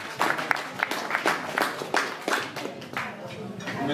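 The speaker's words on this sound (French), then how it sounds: "Merci à vous, on peut les applaudir." Audience applause at an outdoor gathering of Bugatti enthusiasts at Château de Couffoulens during the Tour de l'Aude 2022, a round of clapping with distinct claps, fading toward the end, with voices underneath.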